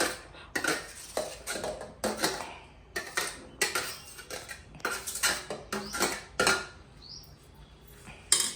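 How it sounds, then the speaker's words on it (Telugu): Chopped carrot, tomato, onion, cucumber and cheese for a sandwich filling are stirred together in a bowl. A utensil scrapes and clinks against the bowl in irregular, fairly close bursts separated by brief pauses, without talking. "క్యారెట్ వచ్చేసి అన్నీ ఒక బౌల్లో వేసేసుకొని మనము చాలా చక్కగా కలిపేసుకోవాలండి"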